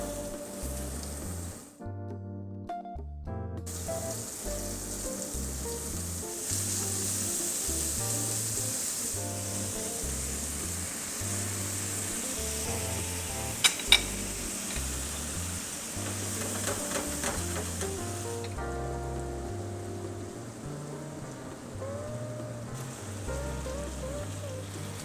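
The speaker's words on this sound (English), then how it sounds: "again I'm just gonna sear the fish on both sides and then take it out" Fish searing in a hot pan for a simple fermented-soybean claypot recipe, a steady broadband sizzle that holds continuously and fairly loud throughout, with faint background music-like tones and no talk.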